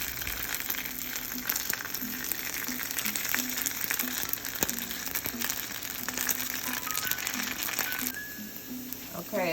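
Hooray Foods plant-based bacon frying in a pan, giving a steady, close crackling sizzle that runs throughout with small pops and a brief clatter near the end.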